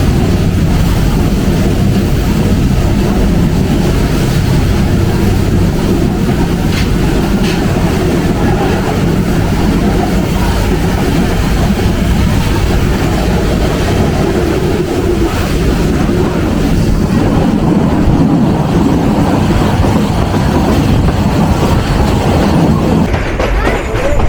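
The Rangpur Express rolls along the line between Dhaka and Rangpur on a hot day, a loud, constant rumble and rattle of wheels on rails heard from on board, unbroken for the whole stretch.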